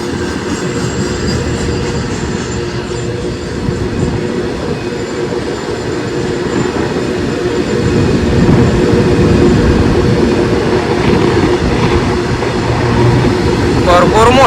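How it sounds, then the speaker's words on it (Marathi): A long freight train of tanker wagons rumbles past close by, heavy wagons clanking and rolling on the rails, the noise swelling louder in the second half. "केवढ्या मोठ्या टाक्या आहेत आणि किती मोठी रेल्वे आहे बघा"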